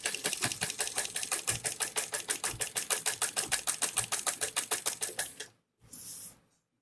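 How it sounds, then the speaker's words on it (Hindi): A sewing machine runs a steady seam around the curved edge of a sleeve on a garment made from leftover fabric, a rapid even chatter of stitches for about five seconds, then a pause and a short final burst. "सिर्फ गोलाई में सिलाई लगाते हुए चलना है आपको"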